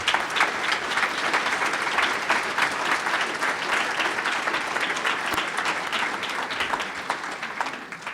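Sustained audience applause for the steering committee at the closing of a nature-based climate solutions summit, many hands clapping in a dense, even roar that holds steady throughout and eases slightly at the end.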